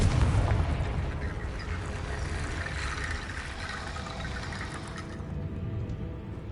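A Confringo fire spell blasts in Hogwarts Legacy, a loud booming burst at the start followed by a rumbling, crackling roar that slowly fades over several seconds, with no voices.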